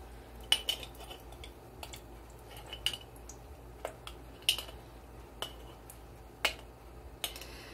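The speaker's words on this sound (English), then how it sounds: "I cut it with a knife" A knife working through solid beef tallow on a counter, with sparse sharp clicks and taps of the blade against a board or plate, quiet and close, separated by brief pauses.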